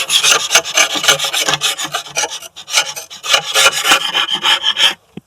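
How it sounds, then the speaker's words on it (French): An old wood chisel scrapes flaking finish off a PVC window sill in rapid, rasping strokes, close and loud with brief pauses, ending abruptly. "Je vais les enlever. Donc l'idéal, voilà, un vieux ciseau à bois, ça va très bien."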